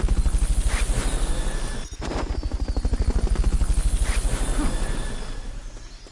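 A helicopter's rotor in the video game Metal Gear Solid: Peace Walker thumps rapidly and steadily, loud and close, with a brief dip partway through before the chopping resumes.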